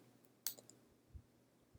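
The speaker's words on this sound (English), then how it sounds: "I apologize if my mouse clicks are rather annoying." A few sparse, faint clicks come from a computer mouse in a quiet room, irregularly spaced with pauses between them.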